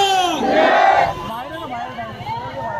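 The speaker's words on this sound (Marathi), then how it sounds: "भरपूर गर्दी वाढलेली आहे" A large, dense crowd roars and cheers at the Mumbai Devi arrival procession, with a loud burst of shouting that then settles into steady babble and voices.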